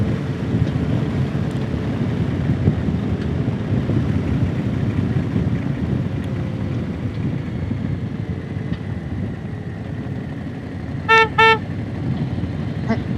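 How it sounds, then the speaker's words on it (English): A motorcycle horn gives two short honks near the end, heard over a steady loud rumble of engine and wind during a ride on a country road. "I couldn't get my hand up the wave, so I just honked"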